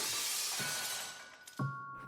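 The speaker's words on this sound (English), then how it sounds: "his frustration leads him to break a glass" Glass shattering inside an apartment, a sharp burst of breaking and tinkling shards followed by a second crash of glass near the end, loud and close with no talking.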